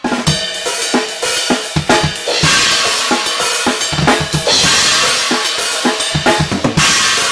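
A busy, loud alternating drum shuffle with washing cymbals and a quick left-hand snare roll that leads into bright bell hits, played continuously.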